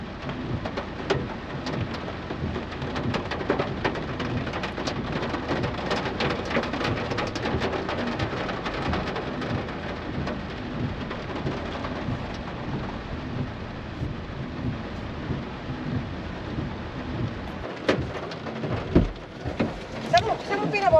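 Heavy, unbroken rain pours down on a farm at night, a dense continuous roar with occasional low rumbles and some talk mixed in.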